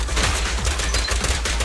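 Gunfire in the video game Zenless Zone Zero: a rapid string of sharp, close shots firing in quick bursts, with no voices.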